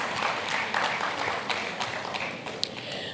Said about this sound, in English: Let's give her another round of applause.